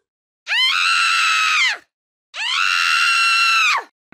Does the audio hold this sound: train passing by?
no